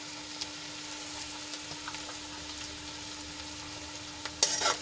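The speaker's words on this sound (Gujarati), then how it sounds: "તો હવે એમાં આપણે ટમેટા એડ કરી લઈશું." Chopped tomatoes go into onions and potatoes sautéing in a pan, giving a soft, steady sizzle with light stirring scrapes and a sharper clatter near the end.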